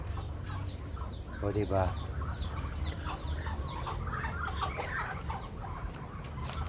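Native chickens, some caged, cluck and chatter nearby in a steady stream, with a short burst of rapid clucking and a person briefly speaking over them.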